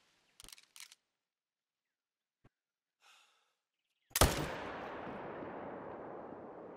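A single sharp rifle shot fired at a tiger in the hunting game Call of the Wild on the Revontuli Coast, a loud crack with a long rolling echo tail, preceded by a few faint clicks.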